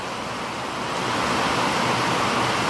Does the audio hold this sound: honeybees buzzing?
no